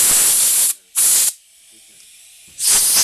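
Compressed air blasts through a carburetor during cleaning, three loud broadband hissing bursts separated by short quiet gaps, the first and last longer, the middle one brief.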